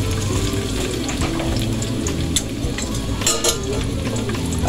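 Garlic sizzles in oil in a pan for pancit canton, a steady close frying hiss with occasional scraping clicks from stirring, no voices over it.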